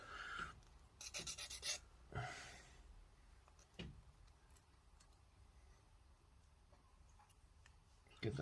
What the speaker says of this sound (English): I think I might get the sanding stick out.